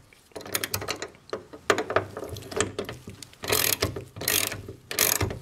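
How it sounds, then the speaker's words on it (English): A ratchet loosens the hood bolts on a Ford Focus, clicking in several close, sharp bursts of rapid pawl ticks with short pauses between strokes. "So just gently loose the bolt one at a time."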